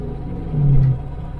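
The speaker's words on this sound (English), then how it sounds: "We get the cobwebs out of it a little bit driving it back to the house." An old pickup truck, parked for years, drives along with a low steady engine rumble that briefly swells into a deeper hum, close and fairly loud, no speech.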